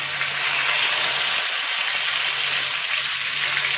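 Chicken for biryani shallow-fries in a pan, making a dense, even, close hiss of sizzling oil that stays constant from start to finish with no talking.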